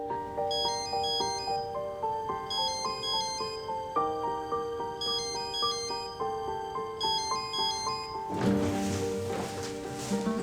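A telephone rings unanswered, repeating a melodic electronic ringtone pattern in steady cycles, loud and close, before a burst of rustling noise near the end.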